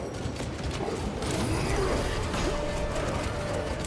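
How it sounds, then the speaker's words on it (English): Weapon reloading in the game Warhammer 40k Space Marine 2, a steady mechanical clatter of ratcheting and gear-like clicks with creaking metal, continuous at moderate loudness over a dense game background. "Reloading."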